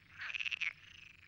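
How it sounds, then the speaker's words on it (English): A frog species with two vocal sacs calls once, a close rapid trill of pulsed croaks lasting under a second that fades into a soft buzzing tail, heard alone against a quiet background. "this species, along with a very few others, boasts two sacs to sing with."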